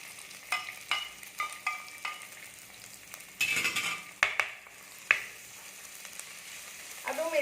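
Long-sliced onion sautés in a pan with ginger and garlic. A quiet sizzle runs under repeated spatula taps and scrapes, and a few louder clinks stand out near the middle.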